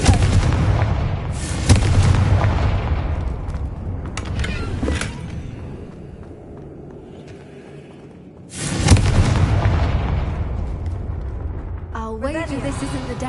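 Two loud, booming blasts from the Confringo explosion spell in Hogwarts Legacy, each followed by a long rumbling decay with a quieter lull between them, ending in a brief voice.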